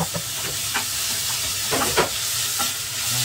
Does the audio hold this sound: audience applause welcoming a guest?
no